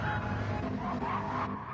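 A BMW GT3 race car in a racing game slows onto a tricky pit entry with a steady engine drone and a brief tire squeal and skid, loud and close throughout.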